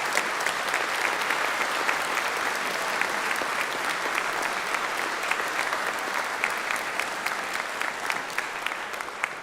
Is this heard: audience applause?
yes